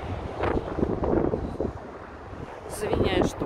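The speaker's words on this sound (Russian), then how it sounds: "Очень сильный ветер." Very strong wind buffets the microphone at an outdoor viewing platform in Moscow's Zaryadye park near the floating bridge, gusting in loud rumbling surges with faint voices in the distance.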